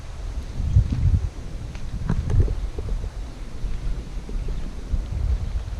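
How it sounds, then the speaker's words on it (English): Gusty wind on a rainy day at an old mining village, low rumbling microphone buffeting that rises and falls in uneven bursts, with faint rustling behind it. "It's a little rainy, a little windy"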